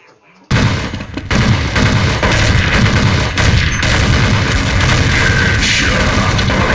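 Loud, sustained gunfire from a shooter video game, dense bursts and rapid shots running continuously after a brief quiet start, with a voice shouting under the din.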